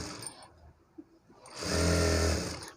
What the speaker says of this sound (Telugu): ఇలా ఫస్ట్ నేను మెయిన్ ఫ్యాబ్రిక్ని స్టిచ్ చేస్తున్నాను